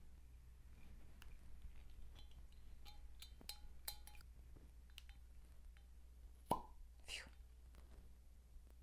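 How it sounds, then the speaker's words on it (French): Cork pulled from a bottle of Bolgheri Rosso 2007 red wine, a single sharp pop near the end after faint clinks and handling noises, quiet and close. "J'ai failli briser le bouchon."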